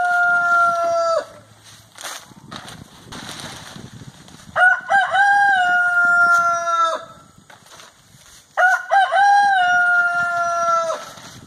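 Roosters crow loudly nearby in long drawn-out calls, with softer clucking from meat chickens in between, at a county fair livestock show.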